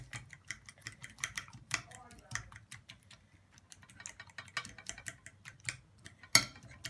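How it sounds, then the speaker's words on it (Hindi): A fork stirs fresh aloe vera gel in a bowl, giving quiet, quick clicking taps and scrapes in an irregular rhythm, with one sharper clink near the end. "हम इसे फोर्क से अच्छा सा मिक्स करेंगे"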